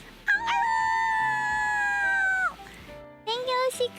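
A person's voice imitates a dog barking as someone comes home, giving one long drawn-out howl-like cry and then a shorter burst, close and loud.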